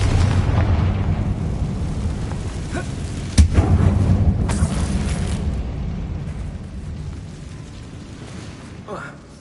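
Spell explosions from Bombarda and Confringo cast in Hogwarts Legacy: a sharp blast bursts over a dense rumbling game soundscape, followed by a second crack and a fading low roar.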